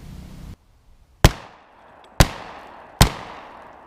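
A Remington 870 12-gauge pump shotgun fires 2¾-inch birdshot loads of number 6 lead at a car from 15 yards: three loud, sharp blasts spaced about a second apart, each with a short decaying tail in quiet surroundings.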